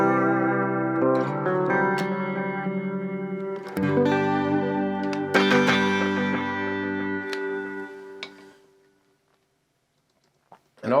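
An electric guitar plays through a Yamaha THR30II amp with a phaser, plus echo and reverb on a clean, lightly driven tone. Sustained chords and single notes ring out, then fade to near silence before a short burst at the end.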